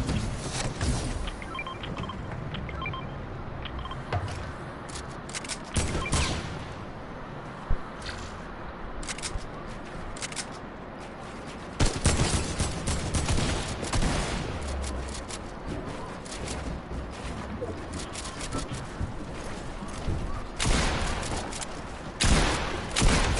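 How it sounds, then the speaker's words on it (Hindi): Bursts of gunfire in Fortnite crack out repeatedly over a long stretch of gameplay, with sharp clustered shots separated by quieter gaps of background game noise. "वन 90 का शॉट मारा है सीधा इसके मैंने सर पे"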